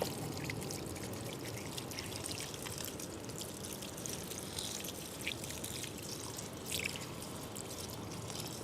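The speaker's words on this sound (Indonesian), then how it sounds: "Ah, ini disiram, ya." Water poured over a custard apple tree in a Bali garden, a steady splashing trickle with scattered drips running continuously and fairly close.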